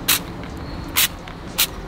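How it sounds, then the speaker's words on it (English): Three short, hissing bursts of malt vinegar from a small spray bottle onto fish and chips, evenly spaced and close, over quiet background noise. "put the malt vinegar in a little spray bottle"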